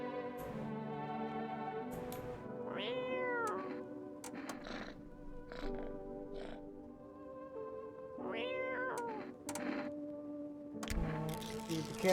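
A cat meows repeatedly in the video game Smoothbrain, drawn-out rising and falling cries that come in separate bursts over a steady musical background, with no voices.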